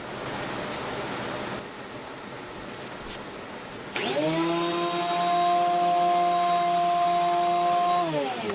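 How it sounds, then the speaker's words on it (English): An electric planer smooths a wooden serving tray. Soft hissing noise comes first, then the motor whines up to a loud, steady, close tone that holds to the end. "we are going to use our planer to finish the last surface"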